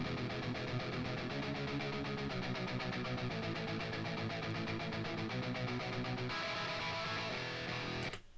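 Odin 2 guitar VST playing palm-muted notes in a dense, continuous chugging pattern with steady repeated attacks, shifting pitch partway through and cutting off near the end.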